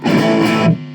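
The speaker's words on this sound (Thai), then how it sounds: "อันนี้คือเสียงจากแอมนะครับ เสียงแตกจากตู้แอม" Electric guitar played through an overdriven amplifier with a single-coil pickup, giving a loud, dense distorted chord that sustains for most of a second and then drops away.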